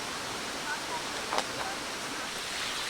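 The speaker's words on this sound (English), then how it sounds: "So coming up to Canonteign Falls now, the waterfall." Canonteign Falls in Devon, England's highest waterfall, roars as a steady broad rush of falling water that fills the whole stretch evenly, with faint speech briefly audible beneath it.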